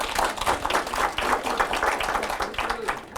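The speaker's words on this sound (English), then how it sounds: "They're clapping for you, Michael." An audience claps steadily at a business introduction presentation, dense continuous applause for a few seconds with some murmuring voices mixed in.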